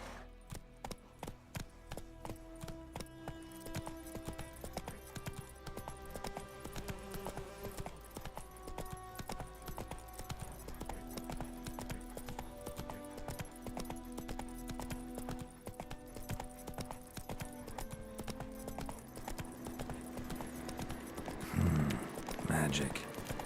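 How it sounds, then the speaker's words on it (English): Roach the horse gallops in The Witcher 3, steady hoofbeat clip-clops rolling on for the whole stretch under game music, with a voice talking over them and a louder burst of noise near the end. "Run, Roach."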